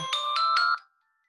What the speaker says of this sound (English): I am using my iPad to play the bells.